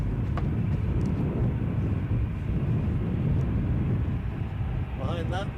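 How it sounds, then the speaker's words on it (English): Airbus A320 jet departing gusty Edinburgh airport, a steady broadband engine roar held for several seconds, heavily mixed with wind buffeting on the microphone. "we have an A320 departure to Bristol"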